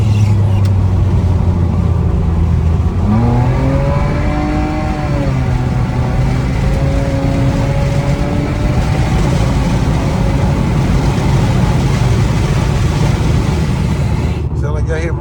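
Modified Nissan Maxima engine revving from inside the car, a loud, near drone that rises and falls in pitch through several rev sweeps over heavy wind rumble, with a person talking over it.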